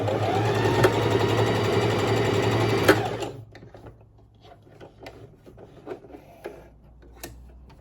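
A sewing machine stitches patchwork fabric in a loud, steady mechanical whir for about three seconds, then stops abruptly, leaving quiet handling clicks and rustles.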